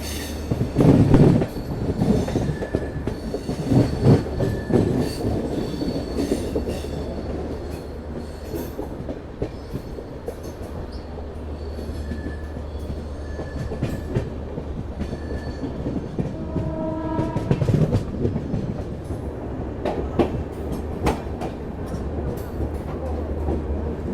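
Shatabdi Express train at Gwalior station, with steady rumbling wheels, clickety-clack over rail joints and brief wheel squeals, the sound carrying on loudly for the whole stretch.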